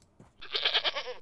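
A single sheep bleat from the Minecraft mod TerraFirmaCraft, a short, bright, wavering cry heard alone and close.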